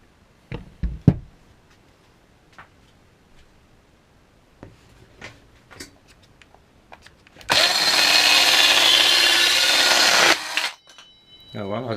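A Parkside 12V cordless mini circular saw (PHKSA 12 A1) whines through a cut for about three seconds, loud and steady, after scattered knocks and handling clatter.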